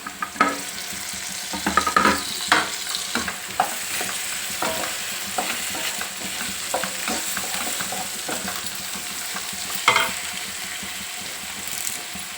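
Crushed garlic and curry leaves fry in hot oil for bitter gourd pulusu, giving a steady close sizzle broken by scraping stirs of a spoon in the pan, with no talking.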